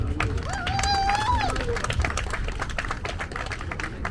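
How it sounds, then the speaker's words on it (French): Audience at a women's groups gathering applauding steadily, brisk clapping from many hands throughout, with a voice briefly audible over the start. "Un bon applaudissement."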